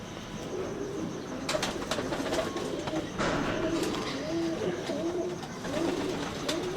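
Pigeons coo in repeated low throaty phrases, several birds overlapping nearby, with occasional wing flutters and clicks in the background.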